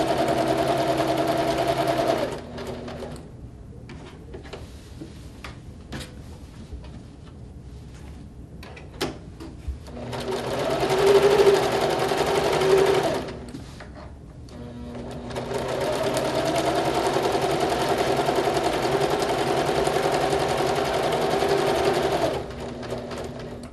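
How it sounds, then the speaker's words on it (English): A sewing machine stitches around the edge of a quilt piece in steady motor-driven runs, pausing briefly between bursts, with a clear stop in the middle before it starts up again and runs for a long stretch. "Keep sewing till we go all the way around"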